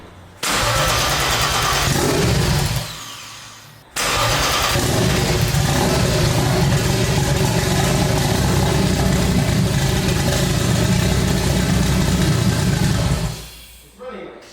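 A forged turbo M50 engine in a BMW E30 runs rough and low at idle. It makes a loud, continuous mechanical drone that drops out briefly early on, then holds steady until it fades near the end.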